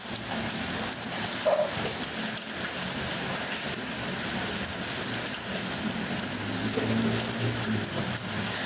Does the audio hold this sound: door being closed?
no